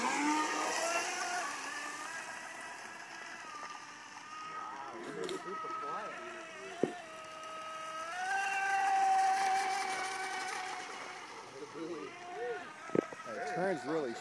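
The motor of a rigger boat runs at a distance with a whining drone whose pitch rises and falls, while people talk over it and a few sharp knocks break in.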